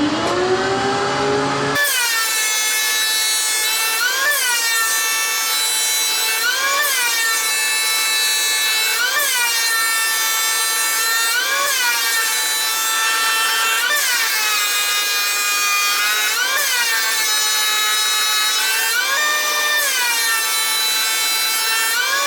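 A power saw cuts through a glued-up wooden cutting board, loud continuous whine with repeated rising and falling passes as the blade bites the wood, glue gumming the blade, no voices.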